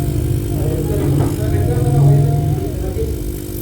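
A small oxygen aerator motor runs steadily in a fish bowl at a fish restaurant during cleaning, giving a continuous low mechanical hum with a faint buzzing drone throughout.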